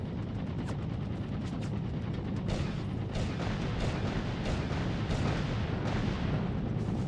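Dense, continuous battlefield gunfire from foot soldiers in the Mercenaries 2: World in Flames video game, a steady roar of shots and booms with sharper cracks standing out, loud and unbroken throughout.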